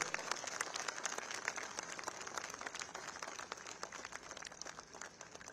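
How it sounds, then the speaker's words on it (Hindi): A crowd applauds at an event near Rajghat, with dense, continuous clapping that stays steady and fairly faint throughout, heard from a distance. "जोरदार ताली बजाएं। सभी ताली रुकनी नहीं चाहिए"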